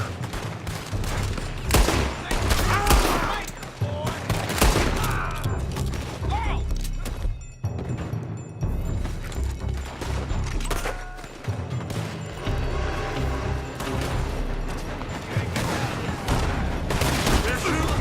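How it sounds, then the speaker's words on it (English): Heavy gunfire from a Red Dead Redemption 2 shootout, with rapid volleys and dense overlapping shots, loud and nearly continuous with only a brief lull. Voices talk over the shooting at times. "They're shooting from that building."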